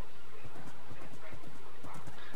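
Horse hooves clopping in Minecraft, a steady run of soft rhythmic thuds repeating about every quarter second, fairly quiet, with no voices.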